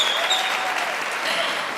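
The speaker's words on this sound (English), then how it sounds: "Can we have a round of applause for the distraction?" An audience at a talk event breaks into a steady round of applause, dense and sustained, sounding from the room at moderate distance.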